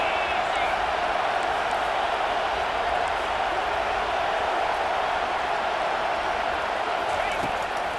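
A roaring stadium crowd on a third down in the EA Sports College Football 25 video game, a dense, continuous wash of cheering and noise that holds steady throughout, with a commentator's voice faintly present.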